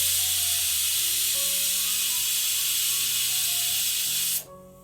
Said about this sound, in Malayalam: ഇത് നല്ലതുപോലെ ഇതിനുള്ളിൽ പ്രഷർ കംപ്ലീറ്റ് ആയിട്ട് പോയതിന് ശേഷം മാത്രം നമുക്ക് തുറന്ന് നോക്കാം.